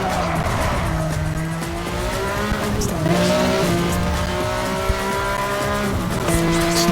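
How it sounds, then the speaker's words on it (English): A sports car's engine in the racing game Need for Speed Hot Pursuit Remastered, loud and steady as it revs and shifts through rising gear tones, with tire squeal and skidding mixed in throughout. "Also, the sound of this car, one of my favorites so far."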